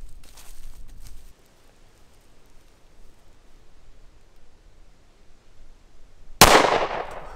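After several seconds of near silence with faint rustling, an M&P M2.0 10mm pistol fires once at a paint target, a single loud, sharp crack close by with a brief decaying ring.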